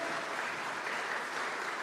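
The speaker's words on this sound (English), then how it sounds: "Can we please make a round of applause for our Maie Sitete Siva Academy tonight?" Audience applause at a 10-year anniversary culture night for the Maie Sitete Siva Academy, a steady, even patter of many hands clapping, somewhat distant and soft, with no voices over it.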